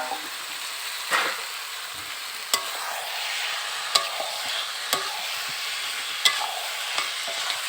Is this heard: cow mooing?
no